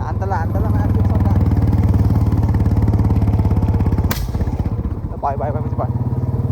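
A motorcycle idles roughly with its engine misfiring, a loud rapid chugging close by, broken by a sharp pop midway. Voices talk over it.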